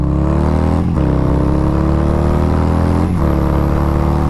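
A Harley-Davidson Fat Bob 117 motorcycle with a Stage 3 upgrade revs steadily with a strong low rumble, dipping briefly twice as gears shift, then climbing again; no talking.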